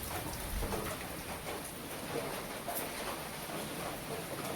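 Heavy rain pours steadily outdoors in a rural setting, a dense continuous hiss of drops drumming on surfaces that stays loud and even throughout, with no voices.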